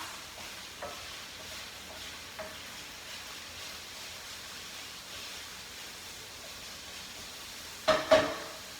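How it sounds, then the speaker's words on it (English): Cherry tomatoes seasoned with kosher salt are tossed in a pan. A soft, faint sizzle runs throughout, with a few light knocks and a louder clattering toss near the end. "Throw our tomatoes in. I would season them right away with a little bit of kosher salt. Give it a good toss."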